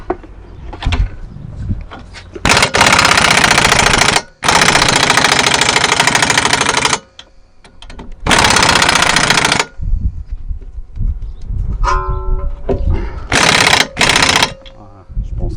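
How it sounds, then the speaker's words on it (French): An impact wrench hammers at a seized brake bolt on a VW Touran in loud, rattling bursts of a few seconds each, separated by short pauses with clanks and low handling noise nearby. "je vais l'attaquer à la clé à choc déjà pour la débloquer"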